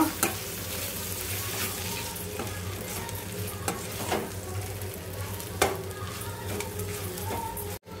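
Fried eggplant being stirred with spice powder in a hot pan, a continuous sizzle with periodic scrapes and taps of the spoon against the pan, close and steady, no voices.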